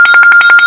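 A telephone rings with a loud, rapid electronic trill of fast, steady pulses, close up and alone, during a podcast studio conversation.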